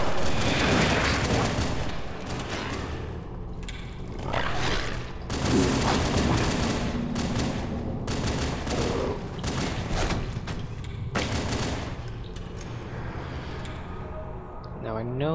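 Gunfire in the video game Halo 2, including dual pistols, runs as dense, continuous bursts of shots and booms under almost constant game noise, with a voice talking over it.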